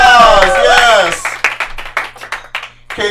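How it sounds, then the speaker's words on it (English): A comedy club audience clapping for a comedian after a set, scattered claps picking up as a voice speaks loudly over the start. "Katie Zane, everybody, give her a round of applause"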